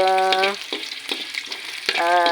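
Steady sizzling and crackling of pork sautéing in a hot pan, with a few scraping stirs and a brief tonal hum at the start and end.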